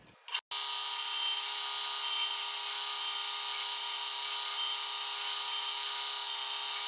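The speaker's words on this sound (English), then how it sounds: "I'll cut the bottom out on the bandsaw." Bandsaw running steadily as it makes relief cuts in a wooden fish shape, a loud continuous whining hiss starting abruptly after a brief knock and holding throughout.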